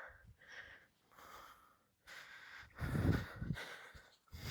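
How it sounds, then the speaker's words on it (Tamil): Heavy, ragged breathing while climbing the steps up to Othimalai Andavar, a hilltop Murugan temple: close, loud gasping inhales and exhales in uneven bursts with short pauses, with no speech. "பயங்கரமாக மூச்சு வாங்குது."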